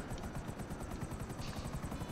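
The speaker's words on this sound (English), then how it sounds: "Is that a helicopter?" Helicopter in a video game, a steady pulsing rotor chop with a buzzing engine tone, continuous and fairly loud throughout.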